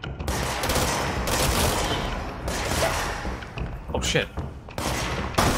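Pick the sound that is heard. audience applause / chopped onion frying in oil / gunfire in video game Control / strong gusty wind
gunfire in video game Control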